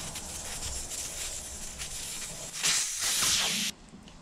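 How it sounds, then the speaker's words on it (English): Air hisses out of an opened valve on a 2019 Harley-Davidson Fat Boy 114 tire, a steady broadband rush that grows louder and stronger near the end before cutting off abruptly. "Now we gotta get these tires off the rims, so start by pulling out the valve cores, letting all the air out."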